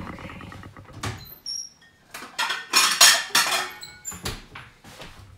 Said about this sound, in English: So let's plate our dish now.